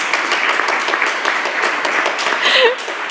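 Audience applause at a panel talk on the economy of the future, a dense, loud wash of many hands clapping continuously, with a brief voice rising near the end.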